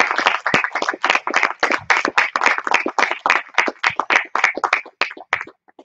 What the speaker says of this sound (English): Please, let's have a round of applause for all the teachers and facilities in IAS.